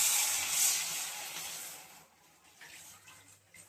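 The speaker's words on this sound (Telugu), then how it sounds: "సాల్ట్, కోకోనట్ మిల్క్ పోసుకోవాలి." Coconut milk poured into a pan while making coconut milk pasta: a broad, hissing liquid wash that is strongest in the first two seconds and then thins to a softer trickle. There is no talk.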